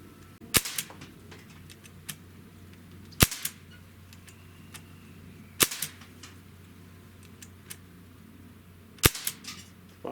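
A SIG Sauer MPX with an 8-inch barrel fires four loud, sharp shots at irregular intervals at an outdoor range at 15 yards, with fainter pops from other shooters in the background.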